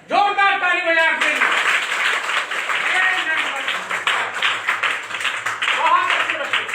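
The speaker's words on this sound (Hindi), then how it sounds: "जोरदार ताली बजा के।" Children in a classroom clap loudly together in a dense, sustained burst of applause lasting several seconds, after a brief spoken prompt at the start.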